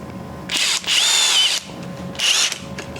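A power drill drives pocket hole screws into wood, giving three short, loud whirring bursts with a rising pitch and brief pauses between them.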